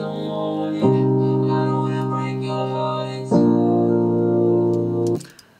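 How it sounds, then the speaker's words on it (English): Dense vocoder effect from the Waves Morphoder plugin on a pre-chorus, with robotic sustained synthetic chords that hold steadily, then shift to a new chord about two and a half seconds later, with no talking. "The vocoder is actually a plugin from Waves."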